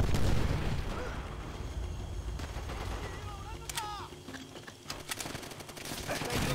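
Grenade blasts and gunfire rattle through a World War II battle in Call of Duty: World at War, with scattered sharp shots, a few louder bursts near the end, and someone talking over the combat noise.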